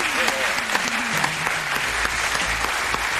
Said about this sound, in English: I think everyone in the audience should really give these kids here and everyone big applause